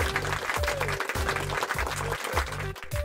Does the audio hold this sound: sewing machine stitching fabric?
no